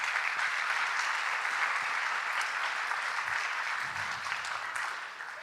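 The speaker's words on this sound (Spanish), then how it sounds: "Un aplauso." A room full of people applauds to welcome a speaker onto a stage, steady moderate clapping that holds evenly and tapers slightly toward the end, with no one talking.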